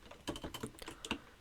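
Quiet typing on a computer keyboard while writing a LaTeX table, a quick run of soft, irregular key clicks heard alone.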